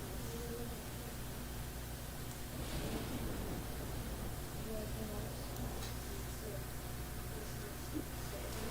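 Rain and a raging storm in the Nancy Drew: Secret of the Old Clock video game make a steady, faint, hissing wash over a low hum, with a brief gust-like swell partway through.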